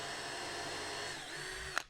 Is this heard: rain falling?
no